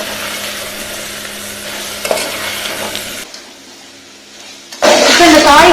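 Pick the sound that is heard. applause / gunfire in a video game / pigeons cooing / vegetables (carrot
vegetables (carrot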